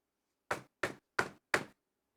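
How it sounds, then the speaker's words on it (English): Four firm knocks on a boutique's door, evenly spaced and close by, each sharp and short, with silence before and after. "There was a knock on the Carousel Boutique's door."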